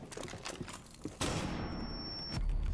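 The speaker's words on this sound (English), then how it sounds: "Shoot through the wall." Muffled gunfire in Rainbow Six Siege as shots go through a wall: scattered faint pops, then a sustained rapid burst of automatic fire, all fairly quiet and without speech.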